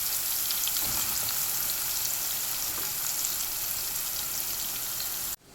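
Sliced bitter gourd fries in a pan with a steady, dense sizzle and crackle, loud and close, running evenly until it cuts off abruptly at the end, with no voices.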